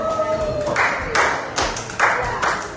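An audience claps hands in a few short bursts, sharp crisp rounds of clapping repeating roughly every half second to a second, fairly close and loud, with a brief tone at the start.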